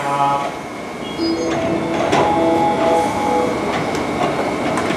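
A JR Musashino Line 205 series electric commuter train rumbles steadily as it departs a station, with a broad mechanical roar and faint clicks and tones layered over it.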